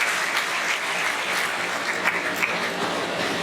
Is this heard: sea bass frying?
no